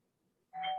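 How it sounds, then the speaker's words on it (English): A doorbell ding-dong chime sounds once as a short, clear electronic tone, played alone over a faint background during an online video call. "ding dong"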